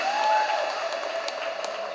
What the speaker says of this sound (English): A huge of applause to Vidya, ladies and gentlemen.